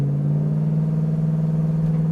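A 1972 Dodge Challenger engine idles with a deep, steady rumble, close and loud, with no talking.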